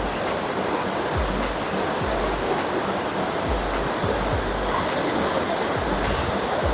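Chunchi waterfall near Kanakapura pours in a steady, dense broadband roar, with low thuds from wind buffeting the microphone now and then; no one speaks.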